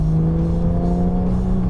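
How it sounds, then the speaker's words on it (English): A 2018 Porsche 911 GT3 Touring with its Sport exhaust open pulls hard from about 35 mph, a loud, steady engine note with a strong low drone and rising harmonics, heard alone from close by. "I just clicked on the Sport exhaust because the biggest thing about this car is it sounds so good at any RPM"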